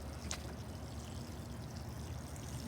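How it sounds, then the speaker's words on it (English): Water pours softly into a potted plant as it gets a little watering, a faint, steady trickle close by. "I just remembered I did not water this one, so I'm gonna do that."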